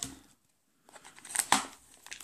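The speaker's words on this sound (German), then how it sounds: "Raschelt." Wrapping paper crinkles and rustles in short bursts as a gift from an Advent calendar is unwrapped, close and fairly loud, with a pause of near silence early on.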